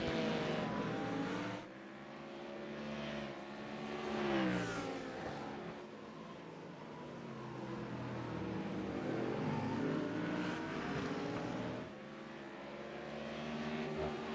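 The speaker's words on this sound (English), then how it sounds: "Beautiful are these Mustangs, and they sound lovely." Ford Mustang and Lamborghini GT race cars running nose to tail in a sim racing game, engines revving and shifting in rising and falling sweeps, moderately loud and continuous with overlapping cars.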